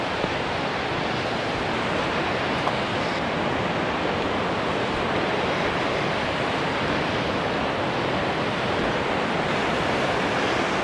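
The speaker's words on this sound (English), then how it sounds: "Looks like there's more falls right down over in that direction" A waterfall at Old Stone Fort, Tennessee, roars as a dense, constant rush of falling water, loud and close, with no voices.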